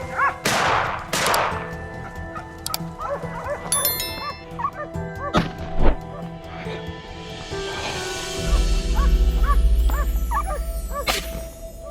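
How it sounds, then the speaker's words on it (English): Hunting dogs bark during a wild boar hunt, with several loud yips and barks close by and farther off, sharp cracks, and a rumbling low noise building toward the end. "The barking of the hunting dogs and the shouts of my teammates ramped up the tension."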